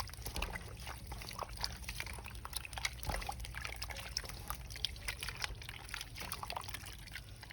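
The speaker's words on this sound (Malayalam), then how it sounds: "ഇനി നമുക്ക് ഇതിൽ കുറച്ച് വെള്ളം ഒഴിച്ച് ഇതിൻ്റെ പൾപ്പെല്ലാം പോക്കണം" Cocoa beans washed by hand in water, the sticky pulp rubbed off, giving continuous soft wet swishing and dribbling splashes, moderately close and steady, with no talk.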